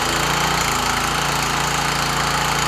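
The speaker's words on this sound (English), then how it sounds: "You should be able to just pull on the pull cord, choke slowly." Small engine on a fire equipment pump running steadily after a pull-cord start, a loud, even, close-up chugging drone that holds throughout the short stretch.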